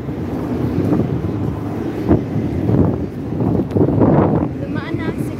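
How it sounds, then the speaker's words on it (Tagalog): Strong wind gusting outdoors in Kuwait, a loud rumbling buffeting roar that swells and dips across the microphone, with a person talking faintly underneath. "mahangin ngayon guys. Mahangin sa Kuwait."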